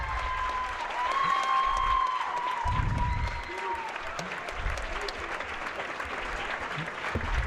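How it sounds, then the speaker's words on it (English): A crowd at the 2024 World Jigsaw Puzzle Championship, first individual round, bursts into applause and cheering that swells and then fades, with voices calling out over the clapping. "That was a big cheer for Becca."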